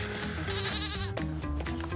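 A goat bleats in a TV commercial played over a stadium sound system at an LSU versus Kentucky baseball game, the wavering cry loud and sustained over dense background music.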